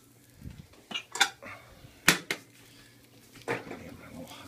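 A pan being tilted on a stovetop while an omelette cooks, giving a few scattered metallic clanks and scrapes of cookware, moderately close, with no voices.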